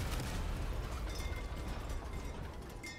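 Weapon fire slams into a Mastodon vehicle during Crossout combat: a loud, unbroken barrage of booming impacts and grinding mechanical clatter that rumbles on for the whole stretch, with no talking.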